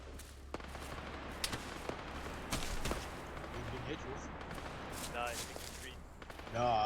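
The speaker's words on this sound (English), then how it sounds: "I think we're just taking some light infantry fire from the east." Light infantry gunfire crackles in a military mission game, sharp distant-sounding shots popping irregularly over a constant low rumble, with voices murmuring underneath.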